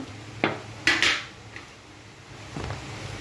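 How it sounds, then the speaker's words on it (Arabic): Chicken pieces are tossed in seasoned flour in a bowl, with a few sharp clinks of a utensil against the dish, then quiet shuffling and a final knock. "هعفرها بالدقيق اللي انا تبلته"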